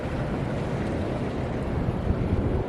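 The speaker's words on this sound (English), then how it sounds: "Yo, they got a water feature here?" Water splashes continuously from a water feature at a Phoenix mall, a steady, fairly close rushing wash with no pauses and no voices.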